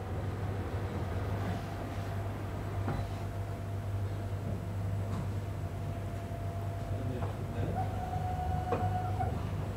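An Espresso Book Machine presses and trims a freshly printed book, giving a steady low mechanical hum and drone with faint clicks and a brief whining tone near the end.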